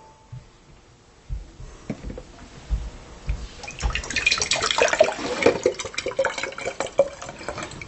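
Hydrogen peroxide is poured carefully into a container during a home bug experiment, a close, steady trickling and splashing of liquid that builds over several seconds with no talk.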